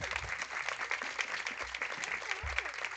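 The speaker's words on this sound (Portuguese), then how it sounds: "Tá bom, então vamos dar uma salva de palmas para eles." Steady audience applause at a religious testimony gathering, a dense patter of many hands clapping continuously for three seconds, moderately loud with faint voices mixed in.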